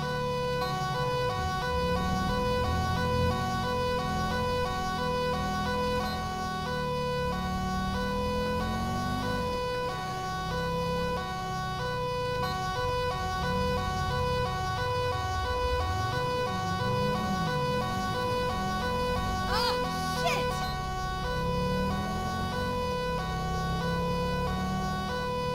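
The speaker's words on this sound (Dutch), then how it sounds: "de sirene gaat er even af trouwens" A police siren in GTA 5 wails continuously and loudly, its steady electronic tone cycling up and down over a constant vehicle rumble, with no talking.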